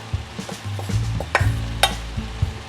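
Drained cooked carrots, from a frozen bag, tumble into a pan of shepherd's pie filling, giving soft stirring scrapes and a low sizzle with a couple of sharper clinks from utensils against the pan.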